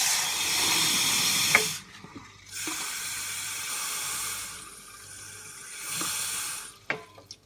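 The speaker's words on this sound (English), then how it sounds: "I'm gonna add 500 milliliters of water." Tap water is poured into a container in a kitchen while making Swedish juice, a hissing, splashing stream in three bursts separated by short pauses.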